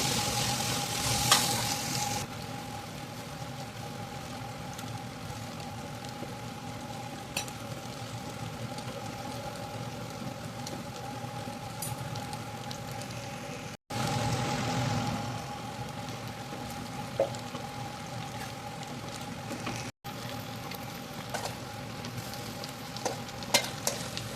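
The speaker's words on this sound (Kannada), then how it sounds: "ಜಾಸ್ತಿ ಬೆಳ್ಳುಳ್ಳಿ, ಜಾಸ್ತಿ ಆಯಿಲ್ ಹಾಕ್ಕೊಂಡು ನೀರು ಹಾಕದೆ ಇದು ಫ್ರೈ ಮಾಡುವಂಥದ್ದು" Garlic fried in plenty of oil with no water added, giving a steady, continuous sizzle and crackle that stays close and even throughout, with a few brief stirring clinks and a low background hum, no one talking.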